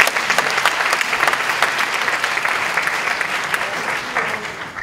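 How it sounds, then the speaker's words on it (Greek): An audience at a presentation before a film screening claps loudly and steadily, with the sustained applause of a packed room filling the whole stretch. "Ένα χειροκρότημα για το Φαργκάνι καταρχήν."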